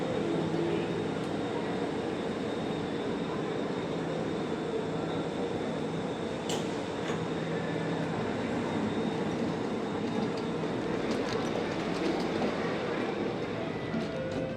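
Inside a Singapore MRT train running underground, a steady, continuous rumble of wheels and motors fills the cabin with broad, even noise throughout.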